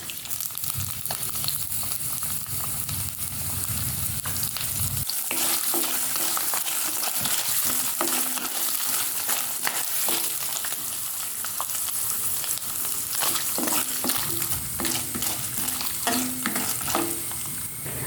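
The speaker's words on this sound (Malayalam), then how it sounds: "വെളിച്ചെണ്ണ ഒന്ന് ചൂടായി വരുമ്പോൾ നമുക്ക് എടുത്ത് വെച്ചിരിക്കുന്ന തേങ്ങാക്കൊത്ത് അതിലേക്ക് ചേർത്ത് കൊടുക്കാം" Coconut pieces frying in hot coconut oil give a steady, close sizzle with crackles and bursts of stirring clatter throughout, and no voices.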